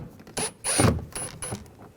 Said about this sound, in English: Take that screw out, just use a Phillips head screwdriver.